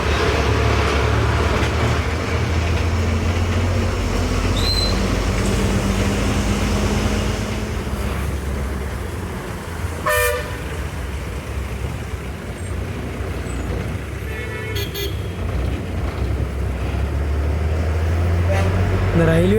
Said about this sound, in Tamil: இந்த ரயில்வே கிராசிங்கில் தாங்க இவ்வளோ டிராஃபிக்கு.